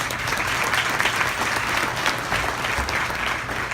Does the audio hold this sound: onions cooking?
no